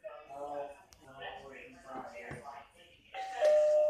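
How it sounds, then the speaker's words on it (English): People talk for a few seconds, then a doorbell chimes near the end with a bright, ringing tone. "let's ring the doorbell."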